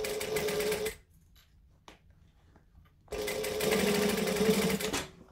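A sewing machine stitches fabric for a case in two loud, steady runs, with a quiet pause between them.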